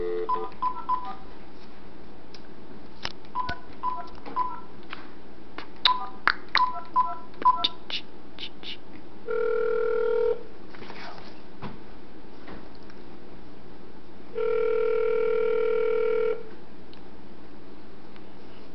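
Telephone keypad tones beep in quick irregular bursts as a number is dialed for a prank call to a pet grooming shop, followed by two long, loud ringback tones separated by a pause.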